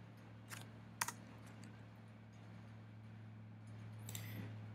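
Keys tapped on a computer keyboard in short scattered bursts, a couple of sharper clicks near the start and a cluster toward the end, fairly close and quiet over a steady low electrical hum.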